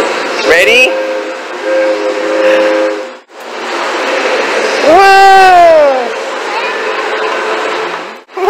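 A coin-operated kiddie train ride sounds its loud steam-style whistle in long blasts, separated by mechanical running noise, with people talking nearby.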